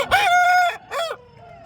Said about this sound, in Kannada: ಇಲ್ಲೊಂದು ಹುಂಜ ಇದೆ